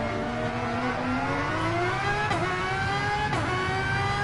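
Aston Martin and Ferrari race cars battle for fifth place in a racing game, engines screaming and rising in pitch under acceleration, with two quick gear shifts breaking the steady roar.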